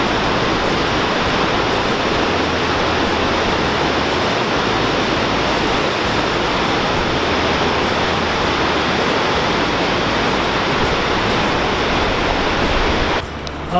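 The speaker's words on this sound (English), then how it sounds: "we are just now getting our first glimpse of the waterfalls" Rushing water at the Krka waterfalls in a national park roars as a loud, constant, dense wash that holds unbroken for the whole stretch, with no voices over it.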